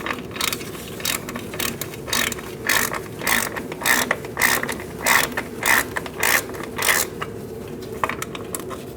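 A ratchet backs bolts out of a wheel cylinder on a 2004-2012 Chevrolet Colorado, with repeated bursts of quick metallic clicking separated by short pauses, close and fairly loud, with no talking.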